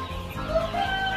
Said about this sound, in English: I'm a farmer here of local chicken that is caged.